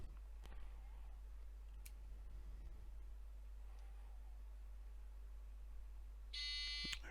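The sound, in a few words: radio altitude warning buzzer in flight simulator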